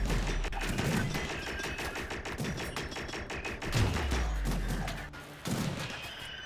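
Doomsday rocket launcher firing in Rimworld amid a dense, continuous barrage of booms and rapid gunfire, loud and close with heavy low thuds throughout.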